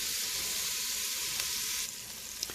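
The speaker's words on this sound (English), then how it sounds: "we're going to just like saute these around for a couple minutes" Vegetables sautéing in a pot with browned fond on the bottom, a steady dense sizzle filling the clip, easing slightly near the end with a small clink.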